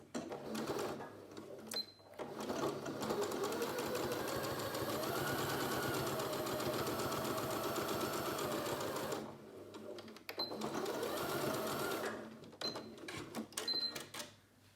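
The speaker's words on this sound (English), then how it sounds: "I'm going to begin by sewing the two sides together." A sewing machine stitches the two sides of a fabric face mask together in a long steady run, pausing briefly twice before starting again, then ending with a few short bursts.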